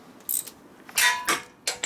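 A ratchet wrench with a spark plug socket works on a 1972 Harley-Davidson XL Ironhead Sportster, giving a few quick metallic clicks and clanks close by, followed by a short silence and one more click.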